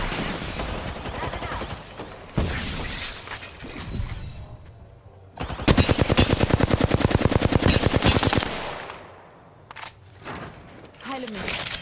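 Rapid bursts of automatic gunfire in a video game while the player is under fire, loud stuttering volleys with brief pauses between them, mixed with game effects and a voice speaking over the action.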